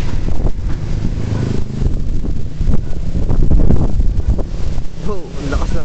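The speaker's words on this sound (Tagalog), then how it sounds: "Oh, ang lakas ng hangin." Strong wind buffets the microphone in heavy, roaring gusts at the top of a house under construction, rumbling and constant throughout.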